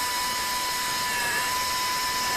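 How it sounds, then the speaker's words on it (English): A dental implant drill spinning continuously during surgery, a steady high-pitched whine at constant speed, close and loud throughout, no talking. "You could see the drill is dragged down by itself during the rotation."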